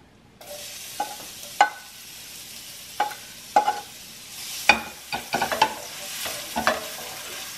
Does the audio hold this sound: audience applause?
no